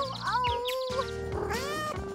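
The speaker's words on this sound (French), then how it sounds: "Oh, waouh, un chaton?" A kitten at a veterinary clinic gives several short, high meows in quick succession, close and clear, over a busy background of music or cartoon-like sound.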